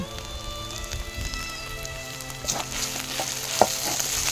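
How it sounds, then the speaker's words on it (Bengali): Deshi chicken frying in a handi with garlic and ginger paste, a close crackling sizzle with spatter pops and scraping stir sounds that grow busier toward the end, no voices. "একটু রসুন বাটা আর একটু আদা বাটা দিয়ে এটাকে ভালো করে ভেজে নেব"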